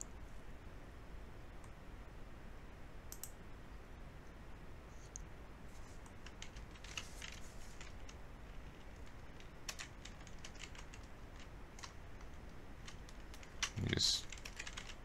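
Computer keyboard typing during a PC game session, faint scattered key clicks in an uneven rhythm, quiet and close, with a louder burst near the end.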